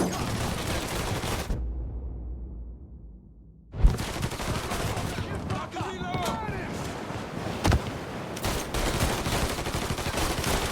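Mafia 3 firefight with sustained loud bursts of gunfire, broken by a brief lull, with shouting voices over the shots and sharp louder cracks standing out.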